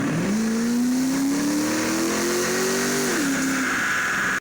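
Modified 2005 C6 Corvette engine revving hard on a dyno, one long sustained rising pull that climbs steadily, shifts once near the end and then cuts off, loud and close with no talk.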